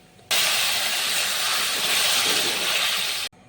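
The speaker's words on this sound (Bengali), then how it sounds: "তো সিমইটা দেওয়ার পরে দুধটা এখন ফুটতেও শুরু করেছে।" A loud, steady steamy hiss of milk with fried vermicelli coming to the boil fills the pot, starting abruptly and holding evenly for about three seconds before cutting off.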